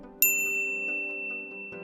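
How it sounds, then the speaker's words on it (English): A bright notification bell strikes once with a clean ding and a long ringing decay, then a softer second tap near the end, alone without any voices. "ring the bell to be notified about our latest videos"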